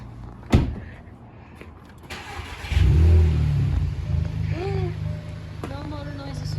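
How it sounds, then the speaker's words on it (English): A stock Volkswagen Mk7 GTI with factory airbox and intake fires up in a garage, a sharp crank catch swelling into a loud, steady idle with a brief rev, a voice speaking faintly over it. "So we'll start the car with the stock airbox and stock intake track"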